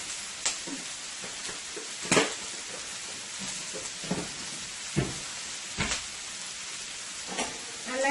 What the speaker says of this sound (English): Quick stir fry here.